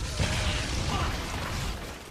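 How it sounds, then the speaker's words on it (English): A broad, sustained roar of an explosion fills a Monster Hunter 3 Ultimate fight, loud and dense with rumbling low end and wash of debris-like noise throughout, no clear talking. "I took 0 damage from that explosion"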